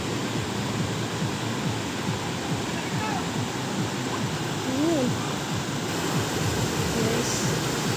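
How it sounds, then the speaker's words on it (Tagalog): Pamalyan River in Carranglan, Nueva Ecija, crowded with bathers, gives a steady rushing water wash, with faint voices and brief chirps in the background. "Ito nga ilog oh."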